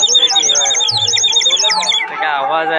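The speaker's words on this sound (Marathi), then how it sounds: "पक्ष्यांचा आवाज आहे अप्रतिम." Loud, bright electronic bird calls ring out at a stall at a Malvani fair, a rapid run of looping chirps and whistles, then a warbling tone near the end, with a faint voice beneath.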